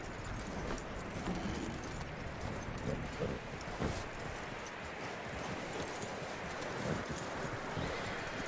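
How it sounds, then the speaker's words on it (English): A horse in the video game Red Dead Redemption 2, steady clip-clop of hooves over a dense rushing ambience with a brief whinny, close and continuous. "That looks like a decent horse."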